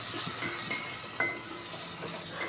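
Tomato pieces frying with onions in a pan, a soft steady sizzle with light clinks of a spoon stirring and one sharper scrape, heard close with no talk.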